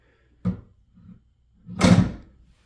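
The hood of a 2023 Nissan Frontier Pro-4X pickup is lowered and shut: a short knock, a pause, then a louder thudding close that rings briefly before fading.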